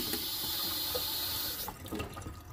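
Water runs from the faucet into the kitchen sink of a 1999 Rockwood camper, a steady close hiss that drops off partway through and gives way to faint clatter and handling noises.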